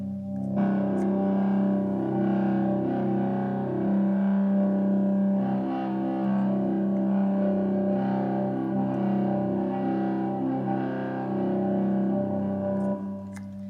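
Sustained electric guitar chord through a Boss HM-3 Hyper Metal pedal, heavily distorted and ringing out with a thick, saturated tone, held steady for several seconds with slight swells.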